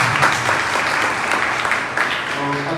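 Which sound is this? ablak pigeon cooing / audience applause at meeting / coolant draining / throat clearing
audience applause at meeting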